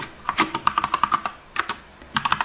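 Someone types an IP address on a computer keyboard, with quick bursts of close, crisp keystrokes separated by a short pause.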